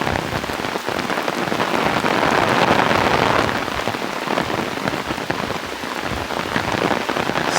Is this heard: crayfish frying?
no